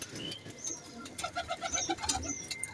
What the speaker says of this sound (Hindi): ये हमारे अपने कबूतर हैं भाई जान